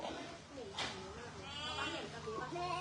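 Goats at a family outing spot in Pathum Thani bleat repeatedly with wavering calls, close by, under people chatting in the background.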